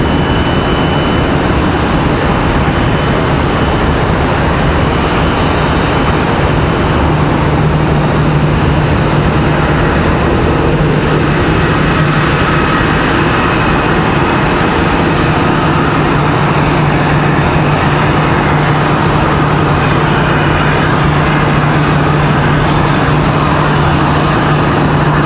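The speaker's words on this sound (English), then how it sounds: "Got another one pushing back here. This one off to Frankfurt. American Airlines 704 off to Frankfurt." American Airlines jet at Charlotte Douglas airport, flight 704 bound for Frankfurt, pushing back. Its loud, steady engine roar runs the whole time, with a sustained low hum that holds through the second half and no voices.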